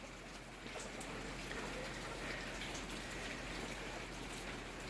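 A soft, steady wash of rain mixed with snow falls outdoors on a rural lot with goats and chickens, a faint, even hiss with scattered drips and no voices.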